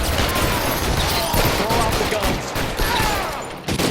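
Rapid gunfire crackles in the video game L.A. Noire, a dense, loud volley of overlapping shots running through the whole stretch, with a voice talking beneath it.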